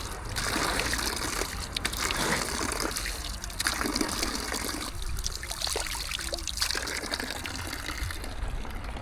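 Water runs steadily from a free public drinking fountain on a street in Milan, a continuous close trickle and splash with faint outdoor background.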